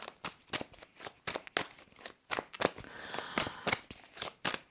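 Playing cards are riffled and shuffled in quick repeated bursts of crisp flapping and clicking, close and fairly quiet, with no talking.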